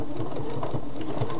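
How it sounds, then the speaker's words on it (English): Sewing machine stitching a baby bib, giving a steady mechanical whir with rapid rhythmic ticking pulses, close and fairly loud, with no talking. "Sometimes my sewing machine doesn't like me as much as it should."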